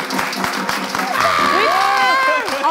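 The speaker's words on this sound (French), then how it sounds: "Applaudissez pour la chef d'équipe." Audience at a live French show finale cheering and clapping for the team leader, with a burst of claps followed by lively shouts and voices over the crowd.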